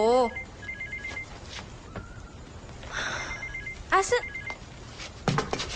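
A mobile phone rings indoors in repeated short electronic trills, clear but not loud, alongside bursts of other sounds and nearby voices.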